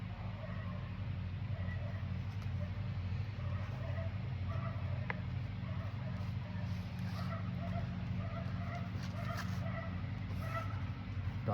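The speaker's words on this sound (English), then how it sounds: "Dogs barking, lawnmower running." A lawnmower engine drones steadily outdoors on a Minnesota afternoon while dogs bark intermittently and faintly in the background, with a few scattered brief noises over the constant motor hum.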